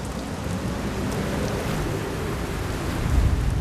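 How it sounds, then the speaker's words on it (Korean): Rain falling on the deck of a sand lance fishing boat at sea, a dense steady hiss of drops with a low rumbling wash underneath that swells slightly toward the end. "예보에도 없던 비가 내리기 시작하고"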